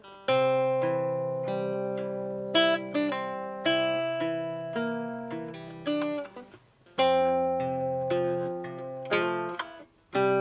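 Guitar plays a whole passage slowly, plucked notes and chords ringing out close and clear in a steady, unhurried phrase, with a brief dip in the middle before the line resumes; no voices.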